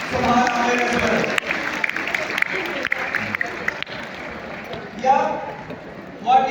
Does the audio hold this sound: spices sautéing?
no